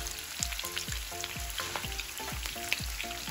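Sliced peppers and onions fry in a pan for a flaming hot chick'n Philly wrap, giving a constant bright sizzle punctuated by repeated clacks and scrapes of a utensil stirring, close up.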